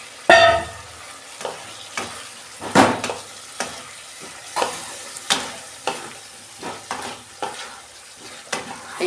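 Fried capsicum and potatoes sautéed with spice masala in a pan for a Kashmiri aloo dum, close sizzling under a regular series of spatula scrapes and knocks against the pan, about one every half second to second.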